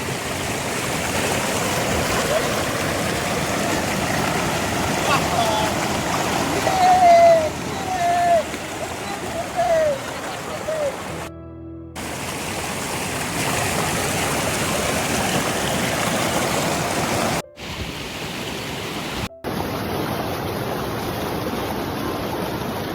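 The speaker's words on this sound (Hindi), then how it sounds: "तो दोस्तों कुछ इस तरह से बह रही है नदी, आप देख सकते हैं कितना सफ़ेद पानी है इसका।" The cold, white-water Gauri Ganga river rushes steadily in the Uttarakhand mountains, a continuous loud broadband roar, with someone speaking over it partway through and brief dropouts.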